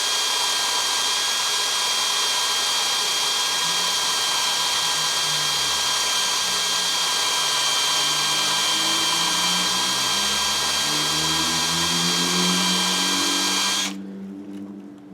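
A power drill whines steadily at high speed, its pitch shifting under load as the bit bores through metal, then cuts out abruptly near the end as the bit breaks through.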